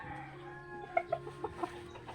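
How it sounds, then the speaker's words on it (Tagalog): A Boston Roundhead gamecock, a tall, high-stationed fighting rooster, gives a few short clucks in quick succession, fairly close against a quiet farmyard background with a low steady hum. "So, ang breed po nito mga kasabong is Boston Roundhead po."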